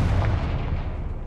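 The Confringo blasting spell explodes in Hogwarts Legacy, a single heavy, booming blast that hits hard and then rumbles away quickly.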